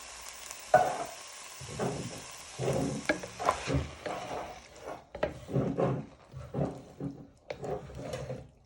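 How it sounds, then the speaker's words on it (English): Canned tomatoes go into a hot pan of spicy Mexican meatballs with wet plops and splatters, followed by quiet scraping and stirring over a faint sizzle, close and fairly soft. "Now you want to add in your tin of tomatoes."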